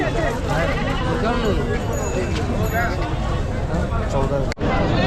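Goats and sheep bleating at a large livestock market in Chakan, Maharashtra, with many overlapping calls near and far above a continuous babble of crowd voices.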